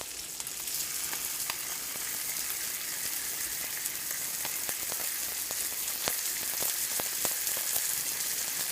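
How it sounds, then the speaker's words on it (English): Steak searing in a hot pan, a loud, close, continuous sizzle peppered with sharp pops and spits throughout, no voices. "I'm going to get this steak going."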